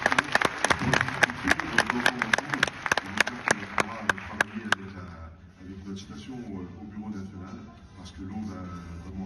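An audience applauds at a sustainability trophy presentation for Elicit Plant. Dense clapping lasts about five seconds, then fades out as a voice starts speaking.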